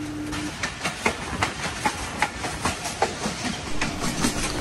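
A Pakistani train rolls over the Nala Dek bridge near Pasrur and Qila Suba Singh, its wheels beating a steady, close clickety-clack of evenly spaced knocks over a continuous rumble.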